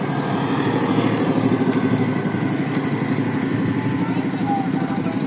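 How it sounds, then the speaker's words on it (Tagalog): A motorcycle engine runs loudly and steadily close by, holding an even drone from start to finish with faint voices underneath. "May motor kasi."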